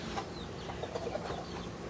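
Silver laced Cochin rooster clucking in short, soft repeated calls over steady farmyard background noise, close by with no talking.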